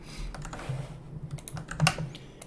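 Typing on a computer keyboard to log in: a quick, uneven run of close, crisp key clicks over a low background hum, with no talking.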